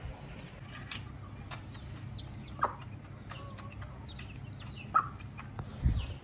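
Soft, occasional clucks from a hen with her chicks sound at a moderate distance over a low steady background rumble, with faint chick chirps scattered throughout.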